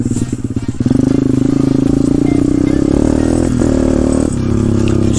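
Small pit bike engine running while ridden, loud and close, with a sharp rev-up early on and then a sustained buzzing drone that dips slightly near the end.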